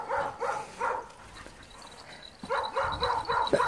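Dogs on an outdoor walk give soft, repeated yips and whimpers in short bursts, a brief pause between groups, fairly quiet with no talking.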